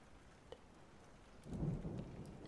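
Rain falls steadily with a rumble of thunder building partway through, a soft low roll swelling in the background of a quiet, calm night scene high above a city.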